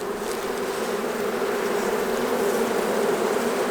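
Honeybees hum in a dense, steady drone over an open hive being inspected in January, close and continuous without pause or talk.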